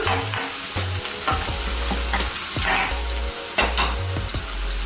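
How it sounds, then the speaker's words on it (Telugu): Onions fry in a pan for Andhra-style fish curry, a loud close sizzle broken by repeated scraping stirs of a spoon against the pan, with no talking. "ఆనియన్స్ అయితే చక్కగా ఫ్రై అయినాయి కదా ఇప్పుడు ఇందులో ఉప్పు కారం అన్నీ వేసుకుందాం మనం"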